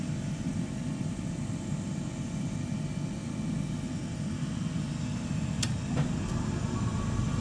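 Heating boiler pump running after the pre-purge, a low steady hum and rumble throughout, with a couple of faint brief clicks near the end.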